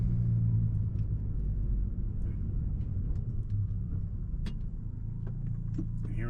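A car pulls away from a stop and climbs through the gears, a low steady engine rumble inside the cabin with faint clicks and knocks over it, and no voices.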